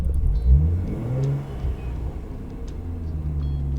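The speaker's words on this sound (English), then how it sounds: "I know I'm revving a cold engine." Cold Lexus IS300 engine, with a turbo fitted, idles and is revved: a loud low rumble rises in a sharp blip early on, then settles back into a steady, rough idle with no talk.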